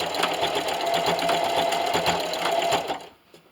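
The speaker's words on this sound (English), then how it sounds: "And I'm going to back stitch 3 or 4 times there also." A sewing machine back stitches through fabric for a tablet stand, a close steady whirring hum with a fast rhythmic needle tick that runs for about three seconds, then stops abruptly.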